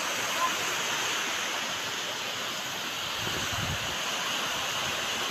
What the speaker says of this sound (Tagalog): So yung mga alon dito hindi masyadong malaki.